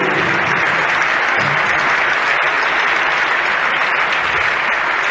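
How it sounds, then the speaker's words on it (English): Steady, loud applause from a squash match audience fills the whole stretch, a dense wash of clapping hands without breaks. "really deserved a good applause"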